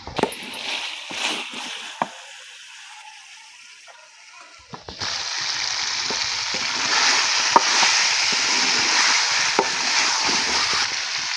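Tomato, garlic and ginger masala frying in a pan, a steady close sizzle that starts after a few quiet seconds with light stirring clatters before, continuing loud and even to the end.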